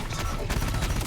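Dense, continuous gunfire from massed units in the strategy game Terminator: Dark Fate - Defiance, a loud rolling barrage of overlapping shots with no clear gaps, faint voice underneath.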